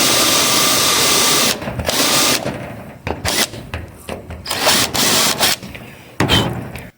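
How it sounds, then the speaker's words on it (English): A power drill spins a countersink bit into rivet holes on a door hem during nose and ductwork installation, whirring in several short bursts with pauses, close and loud. "I'm countersinking them"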